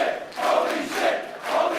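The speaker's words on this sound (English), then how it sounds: "Well, Dave, just listen to this crowd." Wrestling match crowd at a WCPW World Championship bout cheering and roaring in repeated swelling waves, loud and continuous with no clear speech.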